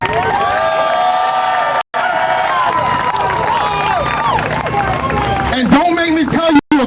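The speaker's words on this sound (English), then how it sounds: "I don't want this lazy applause" A live crowd cheers, shouts and applauds loudly and continuously, voices whooping over clapping, with brief dropouts in the sound.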